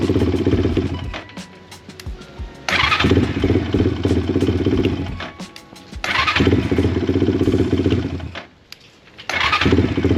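Loud GEON X-Ride 190cc pit bike engine revving in repeated bursts with brief drops between, the rough exhaust roar rising and falling up close.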